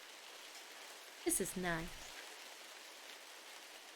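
Steady rain falling, an even soft hiss from start to finish, briefly joined by a short spoken remark near the middle.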